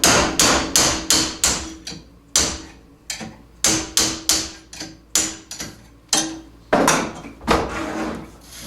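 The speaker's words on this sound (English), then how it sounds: "knock the jam nut loose." Hammer knocking a jam nut loose on a KYB rear shock absorber during a suspension rebuild: sharp metallic strikes, close and loud, in quick rhythmic bursts with brief pauses between groups.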